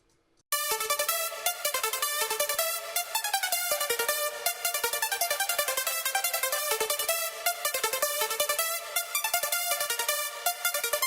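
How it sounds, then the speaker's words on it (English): Bright, percussive Eurobeat synth melody with sharp attacks, playing a busy pattern of short staccato notes over chords, loud and continuous after a brief silent start. "I choose a rather percussive synth sound with a strong attack and added some shorter notes on the melodic pattern"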